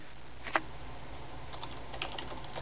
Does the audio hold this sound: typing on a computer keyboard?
yes